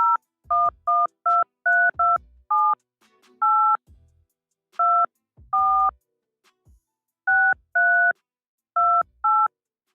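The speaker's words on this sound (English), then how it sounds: "Please enter the telephone number you wish to dial now" Telephone keypad DTMF tones, a quick run of short two-note beeps tapped in bursts of varying spacing, clear and close with faint clicks between presses.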